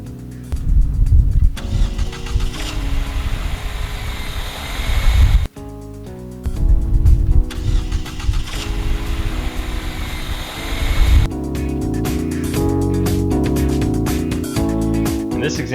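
A car engine cranks and catches, then runs with a rough, loud rumble, cutting out and restarting before settling into a steadier tone with music-like tonal bands layered over it.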